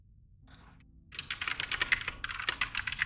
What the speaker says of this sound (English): Sorry, my keyboard's really loud.